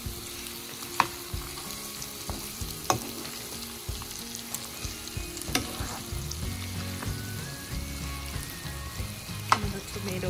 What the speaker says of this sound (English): Just let it cook for maybe another 15 minutes till it absorbs all that flavor.